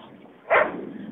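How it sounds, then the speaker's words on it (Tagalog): A dog gives a single short bark, fairly close and loud, rising out of a quiet indoor room and trailing off into low background noise. "ba't ka ba tahol?"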